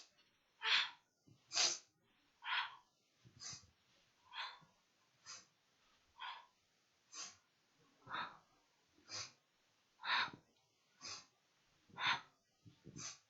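Forceful rhythmic kundalini yoga breathing, about fourteen strong nasal inhales and exhales at a steady pace of roughly one per second, close and breathy with no speech.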